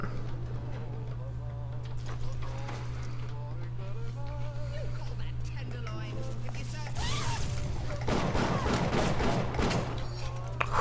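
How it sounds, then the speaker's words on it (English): Gunfire rings out in the video game Bioshock: rapid bursts of shots grow louder toward the end over a constant low hum of game sound, with muffled voices in the background. "That was some sharp shooting, that was."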